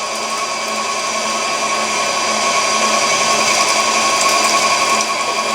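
An electric meat grinder runs steadily with a continuous motor whine while several pounds of meat are fed through, loud and close with no talking.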